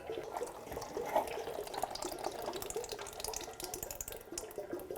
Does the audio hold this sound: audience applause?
no